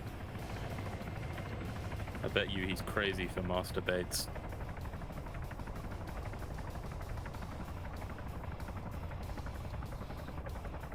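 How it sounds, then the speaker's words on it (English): A helicopter in a PvP video game match drones with a steady low rotor hum throughout, and a voice talks briefly over it. "Helicopter's, I think, gonna land and take the terminal."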